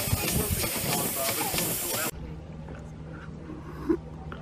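A steamboat's steam engine, running in simpling mode on the River Fal, hisses loudly and steadily for about two seconds, then cuts off abruptly, leaving a low engine hum and faint background sounds.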